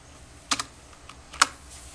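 A few light keystrokes on a computer keyboard while typing a web address, sparse clicks in two small bursts, close and quiet with no talking.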